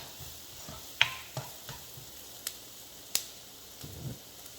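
Onions frying for curry in a pan over a medium flame give a faint, steady sizzle broken by a few sharp crackles and pops, with no talking.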